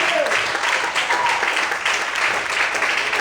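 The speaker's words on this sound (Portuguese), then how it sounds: "Quantos podem aplaudir e exaltar o Senhor?" A church congregation applauds during a Portuguese-language sermon, a dense, steady wash of clapping that fills the room for a few seconds, with faint voices mixed in.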